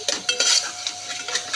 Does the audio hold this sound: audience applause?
no